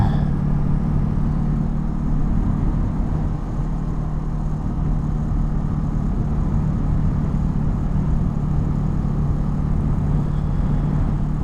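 Motorbike engine running on a ride near Winthrop and Washington Pass, a loud, steady low drone with constant road and wind noise, holding an even pitch throughout with no clear gear changes.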